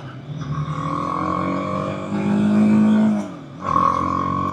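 A 2024 BMW G 310 R motorcycle engine on a ride: a close, steady tonal drone that rises in pitch as it revs, drops briefly as if shifting, then picks back up.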